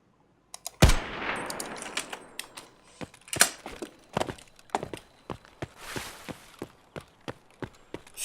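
Rifle gunfire in a STALKER or Tarkov match: a loud opening shot followed by a string of irregular single shots and clanking mechanical handling noises, fairly close and with no talk.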